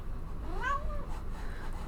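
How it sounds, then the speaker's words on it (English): A single short meow from a pet cat, close and clear against a quiet low hum, with nothing else following. "My kitty is here. She's making her presence known."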